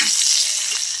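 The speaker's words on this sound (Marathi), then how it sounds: "हे बघा लसूण टाकते आणि भरपूर अशा मिरच्या चांगलं असं भाजून घेते, खरपूस भाजून घेते." Garlic and plenty of green chillies roasting in a pan over a village wood-fired stove, a loud, close, steady crackling sizzle with no voices over it.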